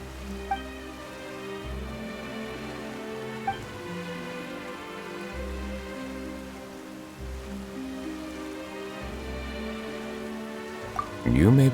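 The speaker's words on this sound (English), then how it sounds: "Why is it raining all of a sudden?" Steady rain hisses over a soft game-style music bed in Genshin Impact, with a couple of faint clicks and a brief louder burst at the very end.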